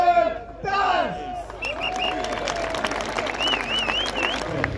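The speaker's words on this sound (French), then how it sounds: "Un tonnerre d'applaudissements pour Marcel Taz." A crowd at a motorsport race final applauds and cheers, with broad clapping noise, scattered whoops and whistles, and a voice talking over it throughout.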